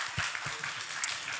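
A short burst of audience applause at an Emancipation Day celebration, a steady wash of clapping with a speaking voice faintly underneath.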